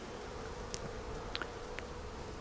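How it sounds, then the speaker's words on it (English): Honey bees hum steadily around a Flow Hive frame, a continuous low buzzing with a few brief, louder passes of individual bees close by. "Super clever bees."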